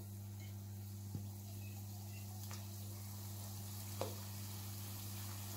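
Gulab jamun dough balls frying in hot oil, a soft continuous sizzle under a steady electrical hum, with a few faint ticks and clinks.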